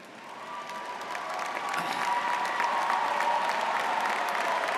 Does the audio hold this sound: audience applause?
yes